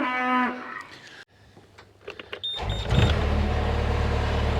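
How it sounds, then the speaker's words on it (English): Beef cattle on a farm, a herd of about 47 adults plus calves, with a loud drawn-out moo at the start, then quieter shuffling, faint clanks and a steady low rumble of a running engine. "bear in mind there's like 47 adult cattle out there and best part of 20 calves"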